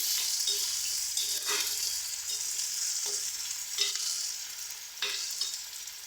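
Shallots and onions frying in a pan, a loud close hiss of sizzling oil with periodic scraping stirs cutting through, steady throughout with no talking.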